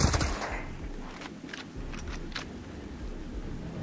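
Video game gunfire during a stealth infiltration in Ghost Recon Breakpoint: a few muffled shots and short bursts at moderate distance over a steady ambient bed, opening with a sharp blast.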